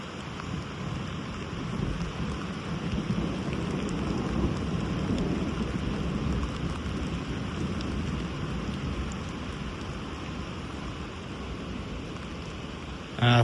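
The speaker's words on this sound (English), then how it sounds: "Here's the thunder." Rain and thunder from a mountain thunderstorm on the Pacific Crest Trail between Taboose Pass and Lamarck Col: steady, dense rainfall with a low, continuous rumble of thunder rolling underneath throughout, heard alone without voices.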